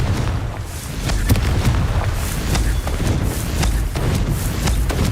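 Confringo blast-spell explosion in the wizarding video game Hogwarts Legacy, a dense, sustained rumbling roar with scattered crackles throughout, loud and filling the scene.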